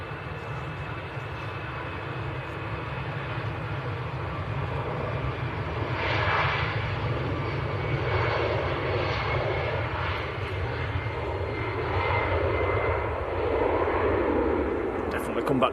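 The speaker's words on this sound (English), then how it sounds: "we've got Air Portugal on the roll, A319 to Lisbon" An Air Portugal Airbus A319 jet on its takeoff roll at Manchester Airport, a steady, loud engine roar that swells slightly midway and holds, with a voice talking over it throughout.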